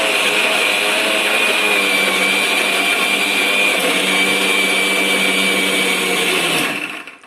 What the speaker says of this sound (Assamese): এতিয়া গোটেইখিনি মিক্সিত দি লৈছো